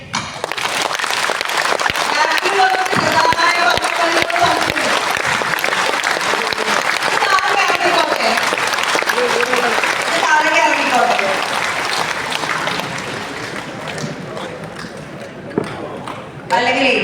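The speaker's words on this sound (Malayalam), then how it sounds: "അതിങ്ങനെ കൈയടിച്ചേ." An audience in Pondicherry bursts into dense, sustained applause that fills the room, with voices talking over the clapping as it slowly tapers off near the end.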